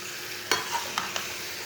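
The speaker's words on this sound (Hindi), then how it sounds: "अच्छी तरह मिक्स कर लेंगे" A spoon stirs spiced mutton with cumin in a pot, giving a few brief scraping clinks over a soft background sizzle.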